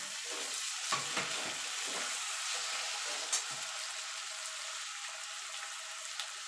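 Chopped tomatoes sizzle steadily in hot oil with ghugni masala, a continuous close frying hiss broken by a few soft stirring knocks and no talk.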